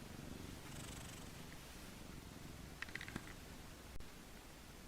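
A cat purrs softly on a bed, a low steady rumble under faint rustling, with a few small clicks and taps near the end.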